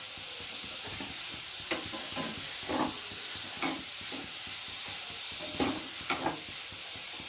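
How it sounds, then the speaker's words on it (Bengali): Grated carrot for carrot halwa frying in a pan, a steady close sizzle and hiss broken by several soft scraping stirs, with no talking. "আর এদিকে গাজরটা ভালো করে ভেজে নেব"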